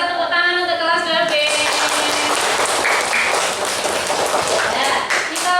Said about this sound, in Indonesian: tepuk tangan untuk kelas 2B